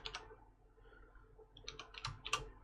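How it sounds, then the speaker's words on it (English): Soft, quick clicking of computer keyboard keys as coordinates are typed during Minecraft play, a short burst of keystrokes near the start and a denser cluster toward the end, with no talking. "Type it up on the side."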